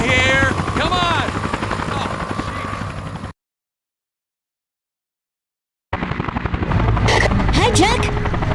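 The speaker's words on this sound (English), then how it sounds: "News chopper, right across from you." News helicopter flying overhead in the Dead to Rights video game, a loud continuous rotor thrum with voices and game effects over it, cutting out to silence midway before returning with sharp bursts.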